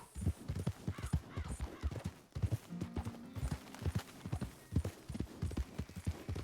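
Rapid, rhythmic hoofbeats clip-clop steadily throughout, a horse trotting close by in the video game Red Dead Redemption 2, with a brief tonal sound midway.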